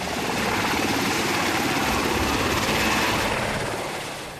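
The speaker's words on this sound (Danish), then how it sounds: "er helikopteren lige ved at lette med den hårde sårede fra den minesprængte mandskabsvogn" A military helicopter lifts off from a camp in Afghanistan carrying a badly wounded soldier from a mine-blasted personnel carrier, its rotor and engine roar loud, steady and close for several seconds, then easing slightly at the end.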